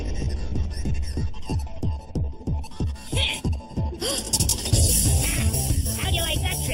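Anime heartbeat effect: about a dozen steady, evenly spaced low thumps, loud and close, fading after a few seconds into a louder, busier noisy stretch.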